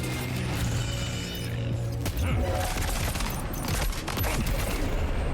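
Gunfire in Death Stranding 2: On the Beach, dense rapid shots and mechanical clatter filling the whole stretch, loud and continuous, with game sounds layered underneath.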